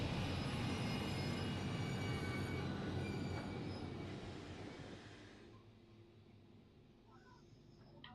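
A train in a horror video game rumbles along with a screeching wheel squeal, then slows and falls quiet as it comes to a stop, leaving faint ambient sounds.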